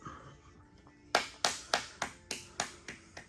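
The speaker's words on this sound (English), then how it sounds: "That rude clap." A run of sharp, evenly spaced claps or snaps, about eight in a row, close and crisp, in a quiet garage setting during work on an 88-98 Chevy C1500 pickup, after a faint stretch of near silence.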